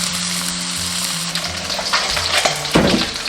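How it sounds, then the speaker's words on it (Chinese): Crucian carp frying in hot lard sizzles loudly and steadily, with sharp spatters and crackles bursting in near the end as the fish settles in the pan. "油热过后，下入鲫鱼。"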